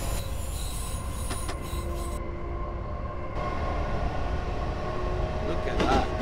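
A Tokyo commuter train on the Tohoku and Utsunomiya Lines in Train Simulator Classic rolls past with steady rumbling and high squealing wheels, continuous and fairly close, sounding like game audio.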